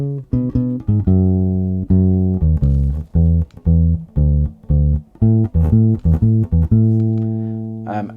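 Solo electric bass guitar plays four bars of a song, a steady run of distinct plucked notes with short gaps between them and a slight variation at the end, close and loud with no voices.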